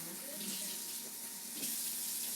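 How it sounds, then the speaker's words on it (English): Water streams steadily from a kitchen faucet as drained food is rinsed, a continuous hiss and splash close by, fairly quiet. "So I'm going to drain them and then rinse them."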